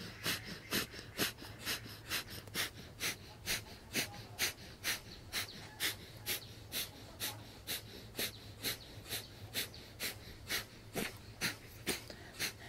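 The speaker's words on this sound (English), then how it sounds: "And start breath of fire." Rapid yogic breath of fire, sharp rhythmic exhalations pumped from the navel, repeating evenly about twice per second for the whole stretch, close and fairly quiet with no talking.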